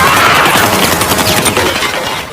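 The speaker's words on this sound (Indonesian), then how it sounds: "terjadi aksi tembak-tembakan" Rapid bursts of gunfire in a movie shootout during a car chase with a syndicate's henchmen, dense, loud and continuous, overlapping cracks with no talk.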